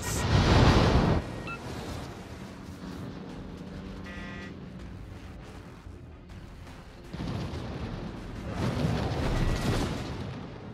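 Naval gunfire in the World of Warships video game, with heavy booming salvos opening the clip and returning near the end over a steady low rumble of battle noise.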